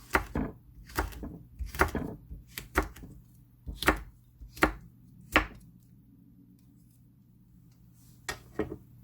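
Chili peppers being chopped on a cutting board for a spicy crab stew, a string of crisp knife thuds in irregular clusters, then a pause and two final chops, close and fairly quiet.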